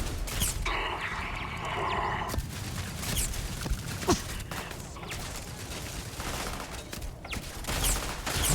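Gunfire from the player's best gun in the video game Starfield: dense, rapid bursts of shots that run almost continuously and loudly for several seconds, with no talking over them.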